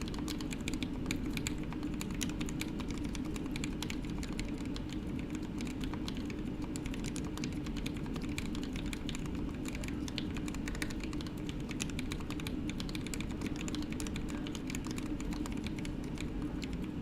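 A custom TGR Alice mechanical keyboard build clatters under continuous rapid typing for a long stretch. Its dense, even keystrokes and stabilizer rattle sound close and steady, with no talking.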